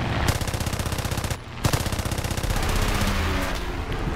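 Rapid bursts of machine-gun fire from a Gloster Gladiator Mk I in an air arcade combat game, loud and close, with a brief pause midway before the rattling stream resumes.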